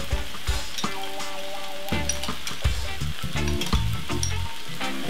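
Anchovies in oil sizzling in a hot pan, a close, continuous crackle and spit with some tonal humming layered underneath.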